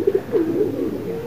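Pigeons cooing close by in a short burst of soft, low, throaty coos, with no talking.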